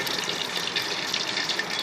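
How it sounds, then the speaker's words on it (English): Hot water rushing from the heat exchanger of a waste-oil-burning water heater, a steady, close hiss of flowing water with no talk over it. "We're getting hot water"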